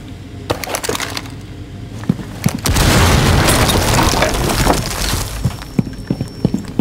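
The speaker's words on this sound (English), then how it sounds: "Breach charge deployed." A breach charge in Rainbow Six Siege detonates with a loud, close boom, then wood splinters and debris crackle for several seconds, with sharp clicks and taps before and after, no talk.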